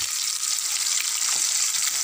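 Vegetables sauté in a pan of hot oil with a steady, close hiss and crackle that holds evenly throughout, with no talking.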